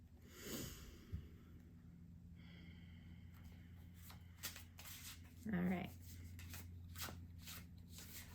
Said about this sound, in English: I'm being very specific about shuffling today.